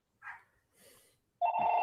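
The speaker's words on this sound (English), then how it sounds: "The other phone was ringing." A telephone rings with short electronic bursts separated by pauses, ending in a loud sustained ring, close and with no talk over it.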